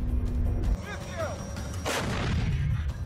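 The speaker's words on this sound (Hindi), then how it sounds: "परमाणु बम गिराने वाली रूस की ये तोप कैसे आग उगलती है, देख लीजिए।" A Russian 2S7 Pion self-propelled heavy artillery gun fires, with a deep booming blast followed by a sharp crack and rolling rumble, loud against a continuous low background.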